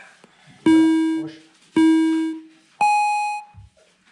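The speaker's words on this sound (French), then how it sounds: "Vous travaillez avec les bips." Tabata interval timer sounding three long electronic beeps about a second apart during a home exercise session, the first two at one pitch and the last one higher, loud and clear with a faint voice between them.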